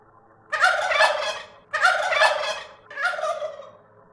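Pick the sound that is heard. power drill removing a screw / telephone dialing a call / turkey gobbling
turkey gobbling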